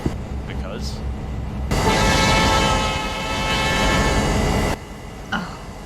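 A train rolls in within the Rails of Illinois railroad game, a loud broadband rumble of railcars swelling up for about three seconds and then cutting off abruptly, with quieter talk and bumps before and after.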